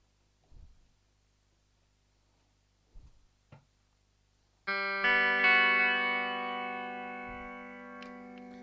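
Twelve-string Telecaster with chorus, delay and reverb effects: a few faint taps, then a strummed chord blooms loud and lush, shimmering as it slowly decays.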